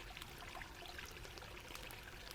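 Water flows and trickles in a soft, constant stream at a low, even level, heard as a quiet ambience with no speech.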